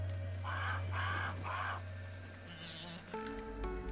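A bird in a video game gives three loud, evenly spaced caws close by, followed by quieter game sounds and tones, with no talking.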